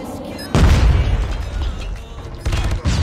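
A frag grenade going off in Call of Duty Mobile, a heavy low boom that rumbles and decays, then a second blast burst a couple of seconds later.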